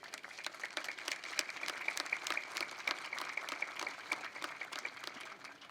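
An audience at a Veterans Day ceremony in Arlington claps steadily for several seconds, a dense, even patter of many hands heard from a modest distance at moderate volume.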